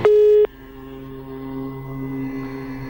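A telephone busy signal sounds on a failed call-in to a live TV horoscope show. A loud, steady tone plays for half a second and then cuts off, leaving a low, hollow line hum.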